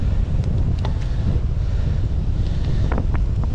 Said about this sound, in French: c'est vent de face